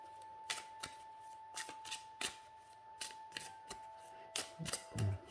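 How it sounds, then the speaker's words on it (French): Oracle rune cards being shuffled, a series of crisp riffling snaps and slides at irregular intervals, close and fairly quiet, with no talking. "Bon, ça va, les cartes glissent bien entre elles."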